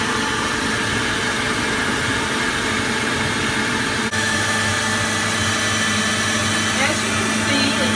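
An electric mixer churns cream into butter, a loud continuous motor whir with a brief dip partway through, steady throughout with no talk.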